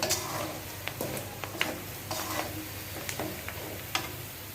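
Shrimp frying crisp in a pan, a steady sizzle with scattered sharp pops and clicks of stirring, close and moderately loud, with no talking.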